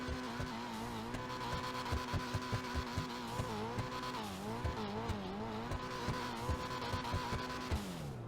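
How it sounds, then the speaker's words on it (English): The Dinka Jester RR sports car in GTA Online revs its engine, a loud, steady game-engine drone with repeated rising and falling pitch sweeps and rhythmic pulsing, with no talking over it. "I do like the Jester RR's sound."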